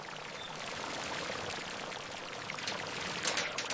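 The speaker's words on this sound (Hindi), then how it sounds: "इस पूंछ पर पानी डालो, ये अभी भी कीचड़ से भरी है।" Water is poured onto the muddy tail of a giant stranded fish, a soft continuous splashing stream that turns louder and more broken near the end.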